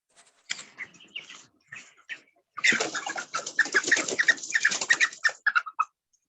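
A chicken about to be slaughtered clucks and squawks in a series of sharp, irregular calls, sparse at first and then a rapid agitated run, close and clear over a silent background.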